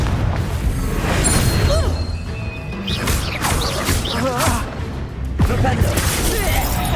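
Confringo blasting spell from the Hogwarts Legacy video game, heard as booming, crashing blasts in a dense, busy battle mix, with game voices speaking and creature cries over it throughout.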